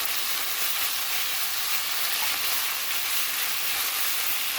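Chopped kimchi stir-fries in a hot pan for kongbiji jjigae, a soybean pulp stew, giving a steady, close, unbroken sizzle and hiss with no pauses and no voices.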